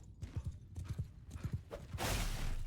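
A horse gallops in the medieval combat game Mount and Blade 2 Bannerlord, with rapid rhythmic hoofbeats thudding close, then a sudden loud rushing burst near the end.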